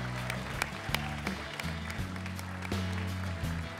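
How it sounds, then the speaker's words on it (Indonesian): Studio audience applauding at a stand-up comedy competition show, scattered claps over sustained background music with some faint voices. "Kasih tepuk tangan untuk Rian dan Akbar."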